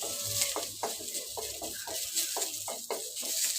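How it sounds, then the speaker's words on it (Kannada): Chilies, garlic and coriander leaves fry in a pan for an okra chutney, giving a steady hiss with repeated stirring scrapes at a close, moderate level and no talking. "ಇವಾಗ ಮೆಣಸಿನ್ಕಾಯಿ, ಬೆಳ್ಳುಳ್ಳಿ, ಕೊತ್ತಂಬರಿ ಸೊಪ್ಪು ಹುರ್ಕೊಳ್ತಾಯಿದ್ದೆ"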